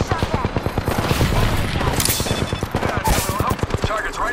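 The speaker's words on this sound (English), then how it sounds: "Getting shot at." Rapid automatic gunfire in Apex Legends rattles out in dense, loud bursts that run nearly the whole time, with sharper shots standing out in the mix.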